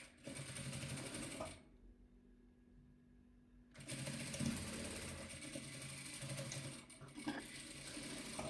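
A sewing machine stitches red patchwork fabric for a pieced quilt, running in a fast mechanical whir close by. It stops for about two seconds, then starts again and keeps going, with no speech.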